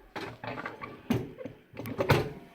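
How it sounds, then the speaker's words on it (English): Door of a Purevision BPVR cylinder wood stove shutting automatically, several soft metallic clunks and knocks with short gaps between them, close by and fairly quiet. "see the door shuts then, and then it opens"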